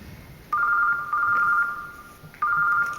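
A telephone rings indoors in a house, with two long electronic ring bursts and a third starting near the end, steady and fairly loud over a quiet room.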